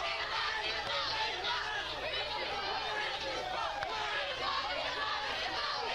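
Crowd at a high school baseball game between Port Barre and Berwick, a steady murmur of chatter and distant voices filling the space, with general babble underneath throughout.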